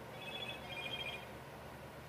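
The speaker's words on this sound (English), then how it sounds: "Oh, goodness, listen to my phone." A phone rings with a quiet, thin electronic trill in two short bursts, set back behind steady room noise, with no talking over it.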